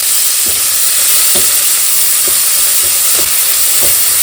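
Vegetables stir-frying in a hot pan, a loud steady hiss and sizzle close up, broken by a few spaced stirring knocks, with no talk.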